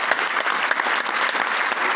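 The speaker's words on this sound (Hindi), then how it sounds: "तालियां बजा दो इस किताब के लिए।" Audience applause at an RCM business seminar in India, steady dense clapping throughout without a break, fairly loud and close.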